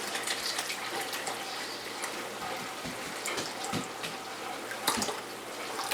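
Apple cider vinegar pours steadily for canning jalapeños, a continuous close liquid gush with small splashy fluctuations and no talking.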